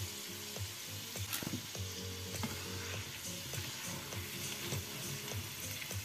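Chicken croquettes sizzle loudly and continuously in hot frying oil, with scraping and clinking as they are stirred and lifted out to drain.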